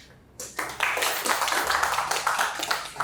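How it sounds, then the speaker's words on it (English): Audience applause at a United Nations Women award event, a dense burst of many hands clapping that starts abruptly after a quiet moment and stays loud and steady throughout. "Thank you for that applause."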